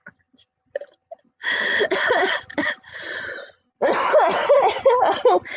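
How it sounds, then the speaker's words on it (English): Several harsh coughing fits after smoking cannabis, in bursts, close and loud, with brief quiet gaps and a few soft throat sounds before the first fit. "it's a cannabis cough, not corona"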